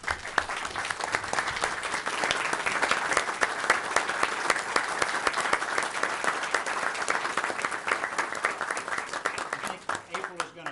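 Loud, sustained applause from a town council meeting audience, honoring someone for their service; dense clapping fills the whole stretch before thinning out at the very end.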